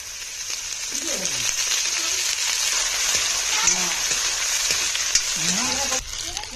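Onions frying in hot oil at an outdoor picnic cookout, a loud continuous close sizzle with occasional stirring, while people talk softly in the background.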